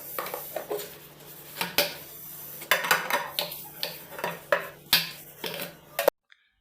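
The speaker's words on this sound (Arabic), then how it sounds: "بجيب حتة طبعا من اللهلوبة وبحطها طبعا في البريل لانها بتخلي المواعين الالمونيا تلمع معايا جدا جدا" Aluminium pots scrubbed with steel wool and dish soap, with close rhythmic scraping strokes and light metallic knocks of the pans repeating for several seconds before stopping abruptly.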